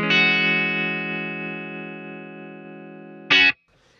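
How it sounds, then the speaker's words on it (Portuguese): Electric guitar through a tremolo effect on a Line 6 HX Stomp, with reverb and booster: one sustained, pulsing chord ringing for over three seconds, then a short loud strummed burst before it cuts off. "E o tremolozinho que eu usei lá no começo."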